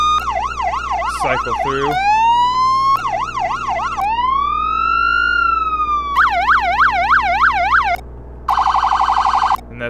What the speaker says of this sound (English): You got a main siren, if you can hear me.